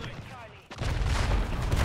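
Video game gunfight in Modern Warfare 3: a quieter stretch gives way to a sudden loud burst and sustained dense gunfire with heavy low rumble, suggesting a grenade blast amid continuous shooting.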